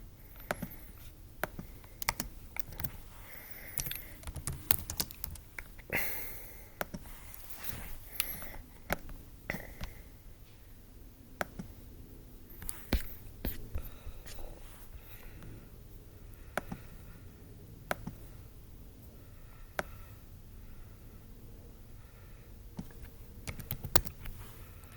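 Keystrokes on a computer keyboard, irregular runs of light taps and clicks with brief pauses, quiet and close with no voices over them.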